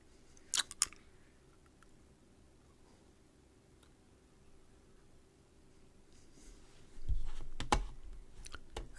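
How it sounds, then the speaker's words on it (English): Keys on a computer keyboard clatter in two short bursts: a couple of sharp clicks near the start, then a quicker run of taps near the end. Quiet background hiss fills the gap between them. "Or are you just typing something?"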